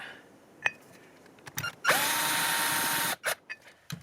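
A homemade surfacing tool grinds against an aluminum brake caliper through powder coat on an RZ350 motorcycle, giving one loud, steady, whining cutting burst of about a second, with brief knocks and clatters before and after.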